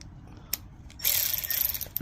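A ratchet works an 8mm bolt on the motor cover of a Troy-Bilt Mustang XP zero-turn mower, with a few sharp clicks followed by a quick run of close, rapid ratcheting, with no voices.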